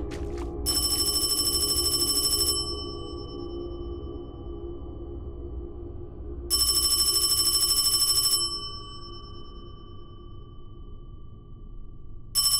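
A telephone rings in a Chinese horror video game, two separate bursts of bright electronic trilling about two seconds long, loud over a low steady hum.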